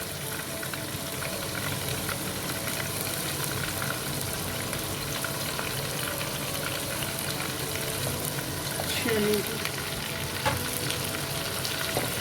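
Masala spices with red chili, salt, turmeric and coriander powder roast in a pan for an aloo gobi curry, giving a steady soft sizzle with faint stirring scrapes throughout, fairly quiet and unbroken.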